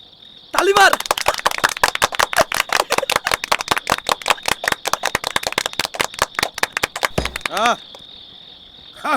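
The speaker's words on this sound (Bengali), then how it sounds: "আরে এত তালি দেওয়ানোর কি হলো?" Rapid rhythmic clapping in a lively comic Bengali scene, a dense burst of claps running for several seconds with a steady high electronic tone underneath, then stopping abruptly.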